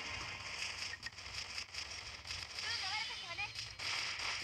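Grenade explosions and crackling bursts in the video game Sword Art Online: Memory Defrag, over a dense, noisy soundscape, with a voice talking excitedly through it.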